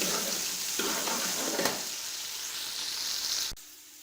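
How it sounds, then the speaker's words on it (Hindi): Garlic and ginger paste sizzles with onions in a hot pan, a steady loud frying hiss with brief stirring scrapes, close by, cutting off abruptly near the end. "इसके अंदर मैं लहसुन और अदरक का पेस्ट डाल दूँगा और 2 मिनट तक इसकी भुनाई कर दूँगा"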